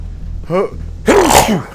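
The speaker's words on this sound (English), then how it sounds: "Sneeze inside my power armor." A single loud, close sneeze from inside video game power armor, with a brief sharp inhale just before it, over a low steady hum.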